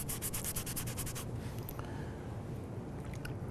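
Cloth rag wiping excess glue squeeze-out off a wooden workpiece, a steady close scuffing rub that is brisk and rhythmic at first, then continues more softly and evenly.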